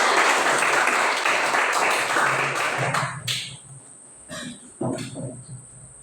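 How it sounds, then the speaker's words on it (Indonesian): A classroom of students applauds together, a dense, steady wash of many hands clapping for about three seconds before it breaks off into a few scattered claps and stray noises. "tepuk tangan dulu semuanya"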